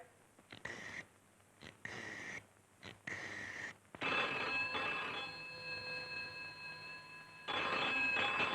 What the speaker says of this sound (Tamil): பெல் அடிக்குது.